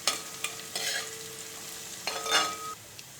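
Onion and garlic sautéing in a pan for Kerala minced meat fry, a quiet sizzle punctuated by scraping strokes of a spatula and metallic clinks, close and intermittent without speech.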